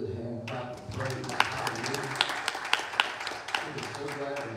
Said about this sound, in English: Can you just give the Lord another good hand clap of praise?